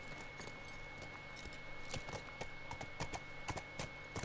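Faint, steady clip-clop of horse hooves in The Last of Us video game, a quiet rhythmic series of soft knocks under low background noise.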